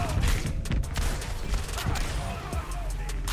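Double shotguns fire repeatedly in the Overwatch 2 game, a rapid flurry of sharp blasts layered over the constant noise and effects of a busy match.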